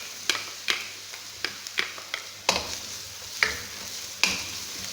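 Garlic fries with white onion in a pan for a stir-fry of mixed vegetables, with a quiet sizzle broken by repeated sharp clicks of a utensil against the pan.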